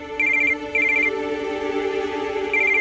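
A telephone rings indoors in a home, giving short repeated electronic trill bursts in a steady pattern over a faint room background, with no talking.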